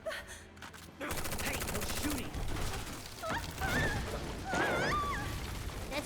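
Gunfire from the Final Fantasy 7 Remake video game: dense rapid machine-gun bursts and fusillades, loud and sustained, mixed with game effects and brief voice sounds.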